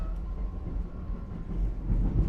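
Reading & Northern passenger train, a Valentine theme run toward Jim Thorpe, rolling steadily with a continuous low rumble and faint rail noise, moderately loud and close throughout without talk.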